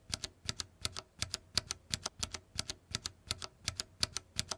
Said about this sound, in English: has a soundbite of the clackiness of the different key switches